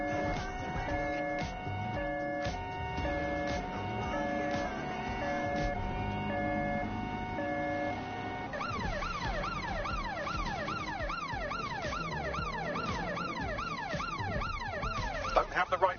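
A police car siren in a video game wails steadily, then switches to a fast rising-and-falling yelp pattern over busy game background sound.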